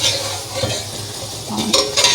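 Okra coated in masala fries in oil in a pan, a loud close crackling sizzle mixed with stirring scrapes and light utensil clinks, with no voices.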